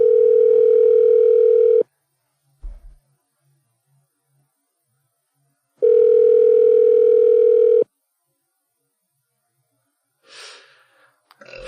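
A telephone call rings before going to voicemail, with two long steady ring tones separated by a pause, loud and close, followed by faint breathing and rustling.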